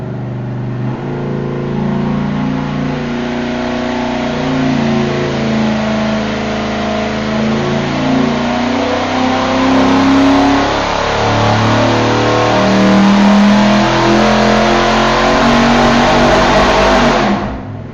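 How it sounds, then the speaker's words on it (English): A Chevy 350 V8 fitted with ProMaxx heads and a Summit 1202 cam revs hard on an engine dyno, a loud, steady, full-throated roar that climbs and holds for the whole stretch before cutting off abruptly at the end. "No, that was the engine."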